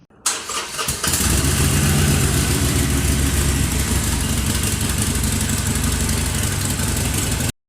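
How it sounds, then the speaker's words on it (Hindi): The cheapest Harley-Davidson motorcycle fires up and runs with a loud, dense, close engine rumble. It holds steady for about six seconds, then cuts off abruptly. "जहां हार्ले डेविडसन का सबसे सस्ता बाइक का साउंड कुछ ऐसा है"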